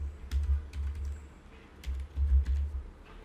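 Typing on a computer keyboard, entering a web address, gives two short bursts of quick, light key clicks separated by a brief pause, close and clear with no voice.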